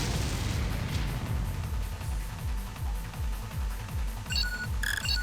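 Tank cannon fire in War of the Human Tanks, heavy repeated booms thudding in a steady rhythm over a rumbling game backdrop, with chiming interface tones near the end and no talking.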